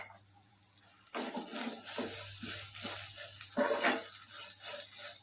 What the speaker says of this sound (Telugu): లైట్గా అయితే ఇలా ఫ్రై చేసేసుకోవాలి.